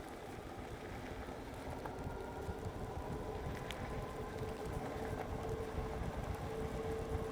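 Electric bike riding on a soft dirt trail, a continuous rough rumble of tires and wind buffeting the microphone with a faint motor whine, steady and close throughout.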